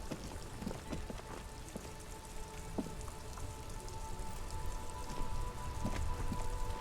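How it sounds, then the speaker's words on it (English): Steady rain falls in the video game Disco Elysium, a dense, continuous patter of drops on surfaces with a few sharper ticks, holding at an even level and growing slightly louder toward the end, with no voices. "It's raining again."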